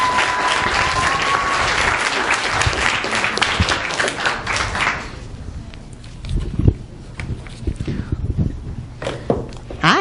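An audience applauds at a business event panel, steady clapping for the first half that thins into scattered claps and faint voices and footsteps as it dies down.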